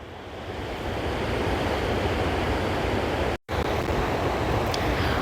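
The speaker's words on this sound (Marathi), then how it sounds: "आत्ता हे भरतीचं टाईम आहे त्यामुळे एवढ्या मोठमोठ्या लाटा" Big high-tide waves break continuously on Diveagar beach in the Konkan during the monsoon, giving a loud, dense roar of surf with wind. A brief dropout interrupts it near the middle.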